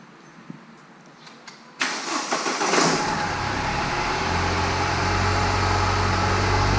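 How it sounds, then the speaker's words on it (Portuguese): A BMW engine with a cracked valve in one cylinder cranks and catches after a quiet few seconds, then idles loudly and unevenly with a steady mid-pitched drone. "bora lá, pode ligar aí o carro."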